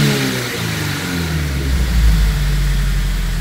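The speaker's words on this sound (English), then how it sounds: "I'm gonna give it a couple of revs" A turbocharged Subaru BRZ engine with an SBD500X turbo kit revs up from idle, its deep rumble rising in pitch and loudness, then holding a strong, throaty roar close by.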